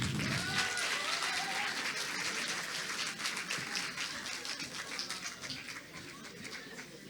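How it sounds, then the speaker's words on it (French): An audience applauds a finalist at an academic speaking final in Montpellier, a dense, sustained patter of many hands, somewhat distant and fairly faint, easing slightly toward the end. "Un tonnerre d'applaudissements pour Gabriel Amagne"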